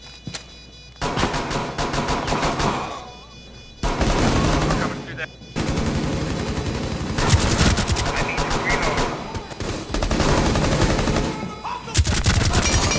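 Gunfire in Rainbow Six Siege during a Terrorist Hunt bomb-disarm mission at Hereford Base, loud bursts and rapid volleys in several separate stretches broken by brief quiet gaps.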